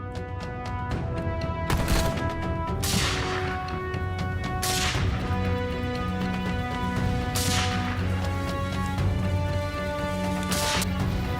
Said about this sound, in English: Gunfire erupted like thunder